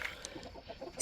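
Backyard chickens cluck and murmur faintly at close range in a brief burst, with a sharp knock at the end and no voices.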